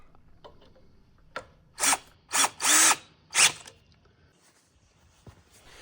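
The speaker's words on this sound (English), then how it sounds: "I use my electric drill for final tensioning of the screws to maximum tightness." Four short bursts of an electric drill whirring in quick succession, close by, tightening screws on a side stand expander for a BMW 1300RT motorcycle, with quiet gaps between them and no voices.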